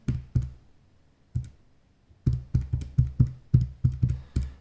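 Fingers tapping numbers into a calculator while working out the volume of a cone, producing a series of sharp clicks: two quick taps, a pause, a lone tap, then a steady run of about eight evenly spaced presses, close and fairly loud.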